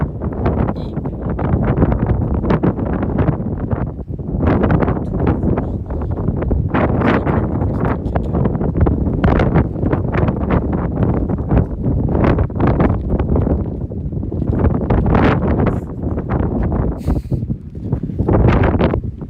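Steady wind buffets the microphone in loud, rumbling gusts for the whole stretch, with no voices, at the Fort de la Latte, a coastal fortress in Brittany.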